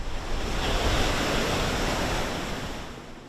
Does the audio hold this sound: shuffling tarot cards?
no